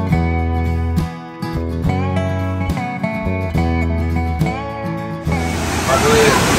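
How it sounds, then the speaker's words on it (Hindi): A waterfall near Basistha Temple in Guwahati bursts in as a loud, steady broadband rush for the last second or so, after several seconds of music with no water audible. "आप देख सकते हो वाटरफॉल बहुत ही बढ़िया दृश्य है।"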